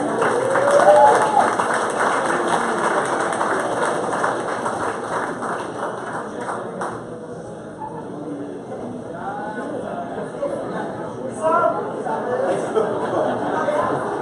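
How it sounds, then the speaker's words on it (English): An audience at a 50th anniversary skipper's briefing applauding their chairman, Richard McIntyre, with a strong burst of clapping that fades over several seconds into crowd chatter, with more scattered claps and talk later. "A hearty round of applause, please."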